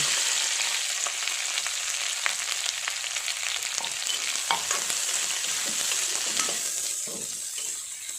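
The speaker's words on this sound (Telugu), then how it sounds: "ఆయిల్ వేడెక్కాక ముందుగా కట్ చేసి పెట్టుకున్న క్యాప్సికం ముక్కలను వేయించుకోవాలి" Cut capsicum pieces fry in hot oil, giving a loud, dense, continuous sizzle with light crackles and occasional stirring scrapes, close up and steady to the end.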